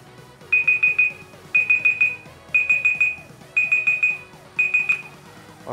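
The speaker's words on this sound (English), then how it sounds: "Set a countdown timer for 15 seconds." Google voice assistant countdown timer alarm going off on a Raspberry Pi, five bursts of rapid high beeps, each about half a second long, repeating once a second, loud and clear.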